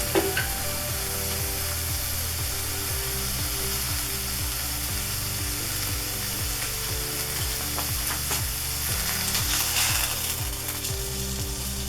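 Flank steak sizzles steadily and loudly in a cast iron skillet, with rapid regular ratcheting clicks from a salt and pepper grinder running over the frying.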